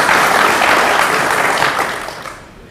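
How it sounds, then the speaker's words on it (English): An audience at a school honors night claps in a dense, loud burst of applause that carries steadily and then tapers off toward the end, with no one speaking over it. "Go ahead and clap."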